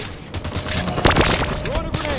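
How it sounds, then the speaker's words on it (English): A grenade explosion and battle noise in Halo 5 multiplayer on the Fathom Assault map: a busy mix of bursts and sharp cracks at close range, with a brief louder blast near the middle and game sound effects around it. "Enemy grenade!"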